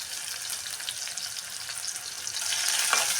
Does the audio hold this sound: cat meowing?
no